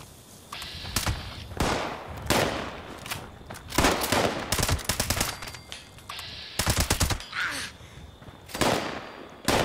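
Gunfire in the video game Fallout 76: a series of sharp, loud shots, some single and some in rapid bursts, spread irregularly across the clip with brief gaps between volleys.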